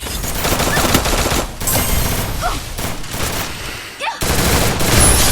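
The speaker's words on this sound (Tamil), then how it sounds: "எவனோ ஈவோ கன் உட்பேக்கரை வச்சு அடிச்சுக்கிட்டு இருக்கான் போல்" An Evo Woodpecker gun fires in a battle royale video game, rapid loud bursts of automatic gunfire with brief gaps, mixed with other game sounds.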